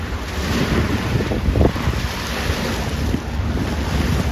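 Motorboats racing past at full speed on a canal near a lock, a steady low rumble of engines and churning wake buried under heavy wind buffeting on the microphone, loud and continuous throughout.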